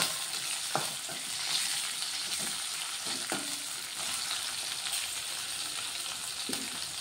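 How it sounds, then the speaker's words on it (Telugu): Cumin seeds and garlic frying in hot oil, a continuous bright sizzle broken by several clicking scrapes as they are stirred around the pan. "ఇదిగోండి జీలకర్ర, అలాగే ఎల్లిపాయలు వేసుకొని ఒక్కసారి కలిపేసుకుంటా"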